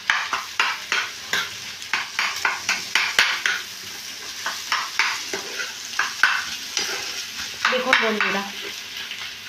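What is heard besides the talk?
stirring snack ingredients in frying pan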